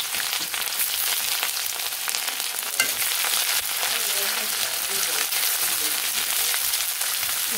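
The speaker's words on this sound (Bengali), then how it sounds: "ভেজে নিয়ে তারপরে একটু মশলা দিয়ে দিব" Chopped green chillies fry in hot oil for a curry of raw jackfruit, giving a steady, loud, close sizzle with occasional spatula scrapes throughout and no talking.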